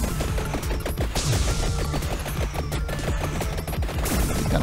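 Gunfire in Vampire Survivors in the Mad Forest stage: a dense, continuous rapid stream of loud shots that never lets up, with no talking.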